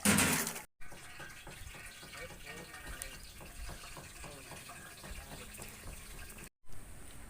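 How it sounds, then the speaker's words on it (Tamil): Water runs steadily from a tap into a vessel, with soft sloshing and swirling as rice is rinsed, fairly quiet and close. "அரிசியை கழுவி எடுத்துக்கிறோம்."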